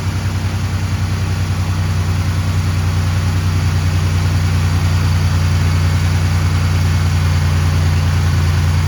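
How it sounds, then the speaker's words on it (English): A car engine idles steadily and close by, a low, even rumble with a faint high whine above it and no voices. "Gotta wait for the idle to come down."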